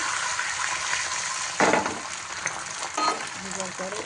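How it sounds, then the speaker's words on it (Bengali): Wheat-flour paratha frying in hot oil, giving a steady, close hiss and sizzle with a brief louder crackling burst partway through. "পরোটা করার জন্য এটা গরম তেলে দিলাম"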